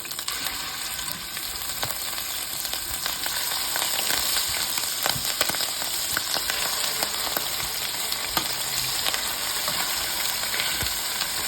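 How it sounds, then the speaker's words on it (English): Kosher-salted pork chops browning in olive oil in a pan, a loud, dense, continuous sizzle with crackling pops, close by and steady throughout, with no talking. "then I salted my pork with kosher salt, and then we're going to get these browning"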